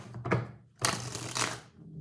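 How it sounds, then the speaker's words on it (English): A deck of tarot cards is shuffled close up, a quick papery riffle followed by a longer fluttering burst, heard on its own. "I'm not pulling cards until it shuffles the right way."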